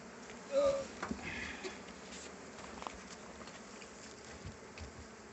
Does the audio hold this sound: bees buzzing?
yes